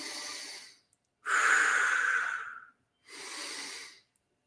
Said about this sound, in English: Big, deep breath, expanding the belly, expanding the ribs, and then just letting it go